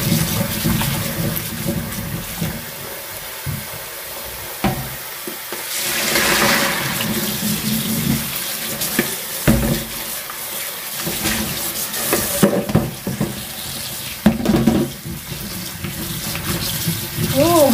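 Tap water runs into a sink while tomatoes are washed, a loud, splashing flow that changes as hands and fruit move through it, with brief quieter gaps and some talk over it.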